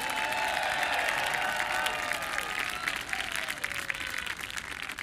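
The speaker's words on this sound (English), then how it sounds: "Could we get a big round of applause for Mr. Golden Pipes himself, Scott Winters?" Audience applause at a university marching band concert, with steady dense clapping that fades gradually, carrying a faint tonal hum or sustained note underneath and no talking.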